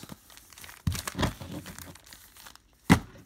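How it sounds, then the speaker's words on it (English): Foil-wrapped Upper Deck trading card packs are shuffled by hand, giving a few sharp crinkling bursts with quiet gaps between them, close and fairly soft. "we're going to go ahead and shuffle up the packs"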